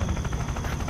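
A helicopter in the VR battlefield game War Dust: a continuous, close, loud rotor thrum with steady low pulsing chop, heard alone for a moment.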